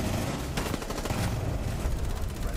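Video game gunfire, with rapid shots crackling steadily and loud in dense automatic fire that runs without a break.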